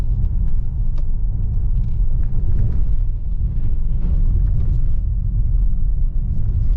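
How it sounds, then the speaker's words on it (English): A 2018 Ford Explorer Sport 4X4 rolls over train tracks, giving a steady, loud low rumble of road and suspension noise with faint thumps throughout, no talking. "as we go over these train tracks, go ahead and give this a listen."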